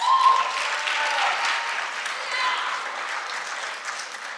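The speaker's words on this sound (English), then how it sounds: "give the parents a warm round of applause" Steady applause from an audience at an 8th grade graduation, a dense wash of clapping that holds at an even level throughout without dying down.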